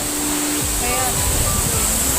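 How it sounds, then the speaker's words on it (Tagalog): A river in Quezon rushes in a loud, steady wash of flowing water that fills the whole moment, with a faint voice briefly rising above the current. "Ayan na guys ang ilog."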